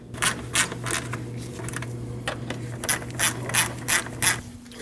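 A ratchet wrench tightening two 10mm bolts on a 2003-2008 Subaru Forester 2.5L H4, with repeated clicking bursts of ratcheting close up, pausing between strokes, under a faint steady hum and with no speech.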